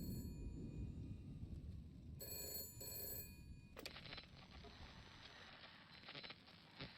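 A telephone rings in the video game Shadow of Doubt, two short bursts of ringing partway through, quiet and set against a low hissing ambient background.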